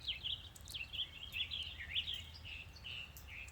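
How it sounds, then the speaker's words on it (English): Small birds sing in spring with quick, high chirps and trills. They sound faint and fairly distant over a low background hum, and no voices are heard. "As the birds make lovely music."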